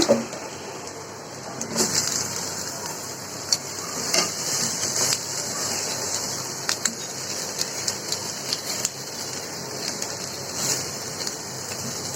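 Chopped spiny gourd tipped into a pan of frying onions, a steady bright sizzle with scattered stirring scrapes and clinks throughout, close and continuous.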